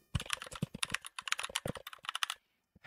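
Rapid typing on a computer keyboard, a quick irregular run of close clicks that stops abruptly near the end.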